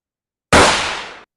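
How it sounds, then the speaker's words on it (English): A single sharp gunshot-like blast bursts out suddenly and decays over under a second, loud and isolated after silence. "Let's say gunfire."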